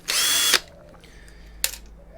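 A power drill backs Torx screws out of scrap cable boxes: one sharp half-second whirring burst, then a quieter pause and a brief second blip, loud and close with no talking.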